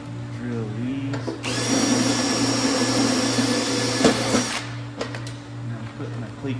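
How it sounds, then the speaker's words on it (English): A drill bores cleco holes in a custom center console, one steady whine running for about three seconds at close range, with brief tool clatter and handling noise before and after. "I'm putting my cleco in as I drill each one"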